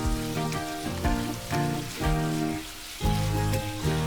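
Goan beef chilli fry sizzles steadily in a pan, a loud crackling hiss broken by rhythmic scraping and stirring strokes, heard up close with no voices.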